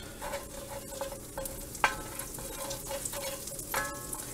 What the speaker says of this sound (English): I'm going to take a tablespoon of butter and go ahead and let it melt in.